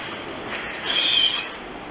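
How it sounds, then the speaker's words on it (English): A brief, high-pitched bird call rings out indoors, a single shrill burst over quiet room hiss. "now we gotta deal with the birds in here trying to attack us"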